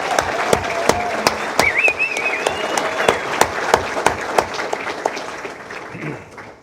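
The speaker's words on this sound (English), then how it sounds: "let's give them a very loud applause." Loud, sustained applause from an audience at a university dean's breakfast, with scattered sharp claps standing out over a steady clapping wash and faint murmuring, tapering slightly near the end.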